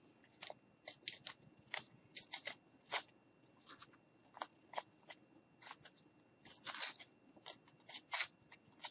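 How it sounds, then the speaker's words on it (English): Adhesive tape pulled and torn in a quick series of short, crisp rips and crackles, close and fairly quiet, about a dozen bursts spread over several seconds with brief pauses between them. "you're going to take your tape and you're going to tear it"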